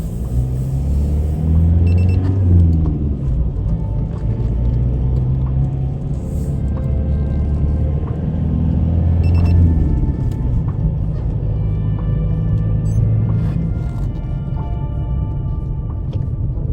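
A 200 kW Ford Puma drives around with a loud, steady engine rumble inside the cabin. Its revs rise and fall in several gentle sweeps, and faint clicks and beeps sound over it.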